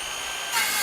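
A DeWalt 12V circular saw makes a bevel cut through 3/4 inch plywood, a brief loud burst of motor whine that rises sharply midway as the blade bites into the wood.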